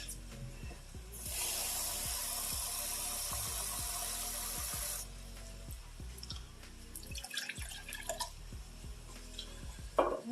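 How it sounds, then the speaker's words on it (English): A cup of water poured into a pot of lasagna soup, a steady splashing pour lasting a few seconds amid a rhythmic background ticking, followed by faint clinks and drips. "And then we're going to be doing a cup of water."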